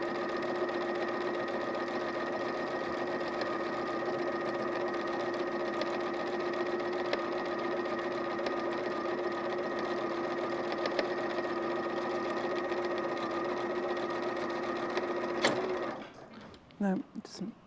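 Sewing machine quilting at a steady high speed, a continuous close mechanical hum with a fixed pitch that stops abruptly near the end, followed by brief handling clatter.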